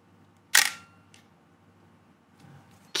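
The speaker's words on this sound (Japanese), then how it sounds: "フィルムカメラのシャッターってなんでこんなに気持ちいいんでしょう。" Pentax film camera, a sibling of the Pentax SP, firing its shutter at 1/125 s: one crisp, loud mechanical clack followed by a faint tick, then a second sharp snap at the very end, close and otherwise quiet.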